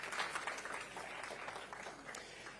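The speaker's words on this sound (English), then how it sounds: "So a round of applause for Owen Ripley" A conference audience at a national journalism gathering claps for an invited guest, a brief, faint burst of applause that swells at the start and tapers off.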